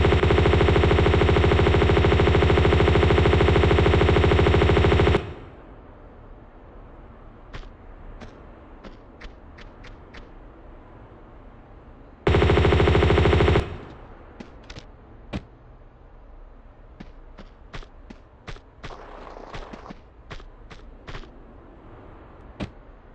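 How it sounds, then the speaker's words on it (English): M16 gunfire at snowmobile enemies in Tomb Raider 2, two long loud stretches of rapid automatic fire, each followed by scattered single sharp shots and clicks. "shoot the snowmobile guys with M16 from here"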